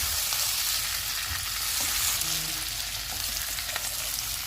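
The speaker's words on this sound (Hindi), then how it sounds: "अब इसमें हम फ्राई की हुई फिश डाल देंगे और 1-2 मिनट तक इसको भी फ्राई करेंगे" Pre-fried fish pieces for chilli fish tossed in a hot pan, producing a dense, steady sizzle with faint stirring scrapes, close and even in loudness throughout, with no one speaking.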